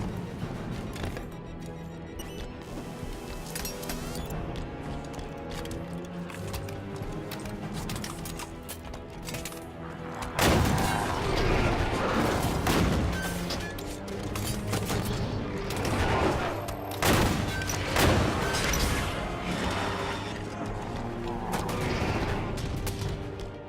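Sustained gunfire and explosive booms from a Halo 5 Guardians legendary campaign battle, a dense barrage that grows louder and heavier about halfway through, with repeated bursts and impacts layered over game music.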